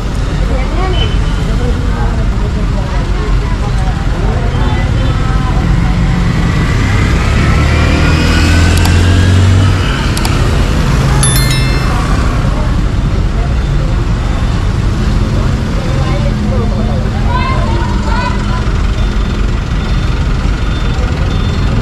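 Road traffic of cars and buses rumbles loudly and continuously for about twenty seconds, with engines accelerating and passing nearby while someone talks over it.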